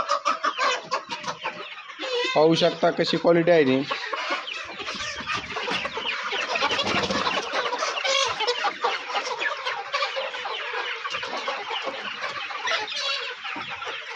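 A crowded poultry shed housing thousands of chickens fills with constant overlapping clucks and squawks, a loud nearby burst early, while someone speaks over the flock.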